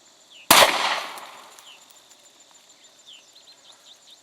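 A 5.7x28 gun fired at a watermelon outdoors, one sharp loud shot with a short echoing decay, followed by faint birdsong in the background and no talking.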